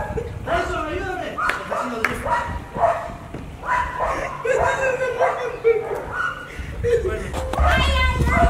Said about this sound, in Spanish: Creo que está ladrando más el perro del vecino que los tuyos